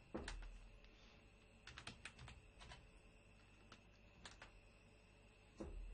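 Keys clack on a computer keyboard in short uneven bursts, with quick clusters of strokes separated by pauses, heard close over a faint steady hum.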